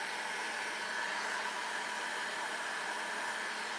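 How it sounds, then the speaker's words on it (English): A well-worn heat gun drying wet paint before stenciling roars with a loud, steady, unbroken airy blast from start to finish, close by and alone. "have my trusty heat gun that has been through everything"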